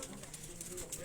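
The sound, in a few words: Tunia breed pigeon from Sialkot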